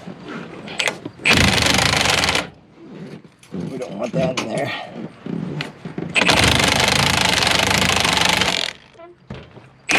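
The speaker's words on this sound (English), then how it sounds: "Excuse the noise here, this is my redneck power jack." An improvised power jack lifts a 2021 Ford F250 truck during an air bag install, sounding as loud harsh mechanical bursts, two long stretches with choppier running between them, while someone speaks briefly over the noise.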